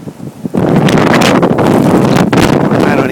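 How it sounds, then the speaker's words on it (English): Strong blizzard wind gusting at about 40 miles per hour during the Blizzard of 2010, roaring and buffeting the microphone loudly and continuously after a brief calmer opening. "This is probably about a 40-mile-an-hour gust here"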